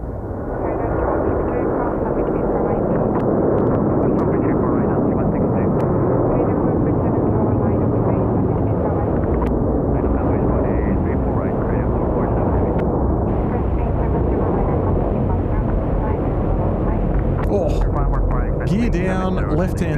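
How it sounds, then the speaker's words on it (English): China Airlines Airbus A330 airliner landing at Incheon, a loud continuous roar of jet engines lasting the full span, broad and rumbling, with a voice talking faintly underneath. "Something we haven't seen in a little while on the Sydney shows is the China Airlines 330s."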